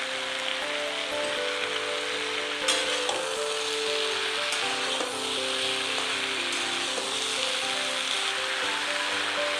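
Mixed vegetables with chilli-spiced ginger paste sizzle steadily in a hot pan on high heat, a continuous close hiss with faint stirring and no voices.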